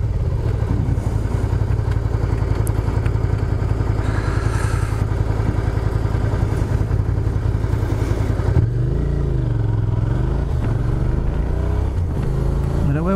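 A Suzuki SV650S motorcycle idles loudly nearby, then pulls away with rising and falling revs as the rider shifts up. The engine note stays strong throughout.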